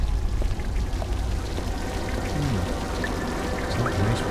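Water pours from a water pipe in the adventure game Lost Horizon 2, making a steady, close splashing gush with faint drips scattered over it.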